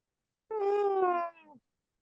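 A cat meows once in a single drawn-out, slightly falling cry heard clearly through a playback of a watched clip, with no talk over it.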